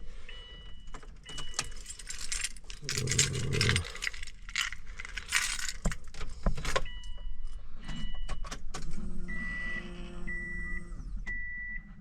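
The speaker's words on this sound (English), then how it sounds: "let me make sure that she actually primes and the pump works." A Subaru STI's fuel pump primes with the key on: a low hum under clicks and jingling keys, then steady electronic beeps near the end, all close up.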